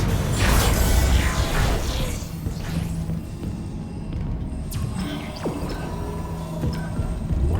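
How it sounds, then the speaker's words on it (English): Elevator machinery in the video game Dead Space Remake grinds and creaks with a low mechanical rumble that starts loud, then settles into a steady hum with faint metallic clanks. "They still have the long elevator rides"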